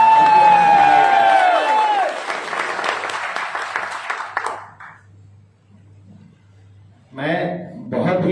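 A crowd breaks into loud applause and cheering that swells, then fades to near silence before a voice starts again.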